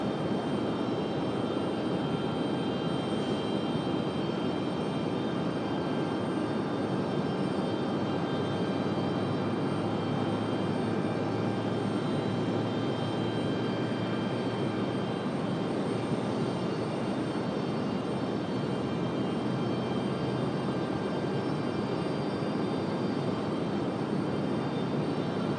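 An airplane takes off from runway 23 right at Raleigh-Durham International Airport, a loud, continuous engine roar that stays broad and steady throughout with no talking.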